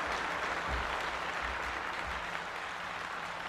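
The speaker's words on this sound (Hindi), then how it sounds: "तालियों के साथ इनका स्वागत किया जाए।" Sustained applause from an audience welcoming an honoree at a women's recognition ceremony, a dense, even wash of clapping that holds at moderate level throughout, with no talk over it.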